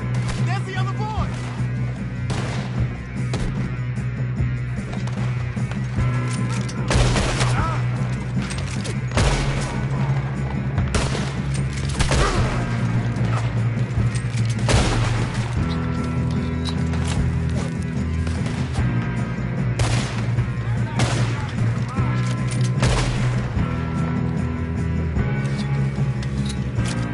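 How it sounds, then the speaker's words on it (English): Gunfire in the Red Dead Redemption 2 video game during a train shootout: repeated loud sharp shots and bursts spread across the scene over rumbling train noise and a horse, with voices speaking in between. "Good shooting, kid."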